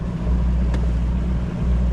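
A fishing boat's motor idles steadily on Wheeler Lake in falling snow, a loud, constant low rumble with no talking.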